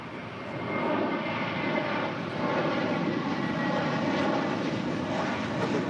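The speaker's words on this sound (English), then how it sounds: "This plane coming in from Dulles, United Airlines flight 667, and the 757-300" A United Airlines Boeing 757-300 jet at the airport fills the air with a loud, continuous engine roar that holds steady throughout.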